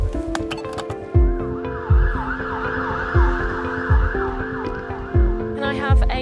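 An ambulance siren wails loud and steady, cycling through a repeating rising-and-falling tone, with the vehicle's engine rumbling underneath.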